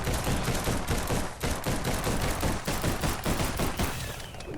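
Rapid rifle gunfire in the video game Biomutant, dense bursts of shots fired in quick succession, loud and continuous with brief gaps, alone without talk.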